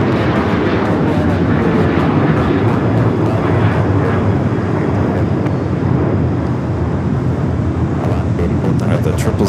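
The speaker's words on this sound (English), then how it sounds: "China Southern Cargo, 777 freighter heading to Shanghai, flight 25 at 10, lining up for a south side takeoff." A China Southern Cargo Boeing 777 freighter lining up for a south side takeoff at LAX, heard as a loud, steady broadband engine roar mixed with wind buffeting, under intermittent talk.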